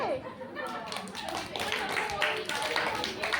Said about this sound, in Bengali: হাততালিটা দে।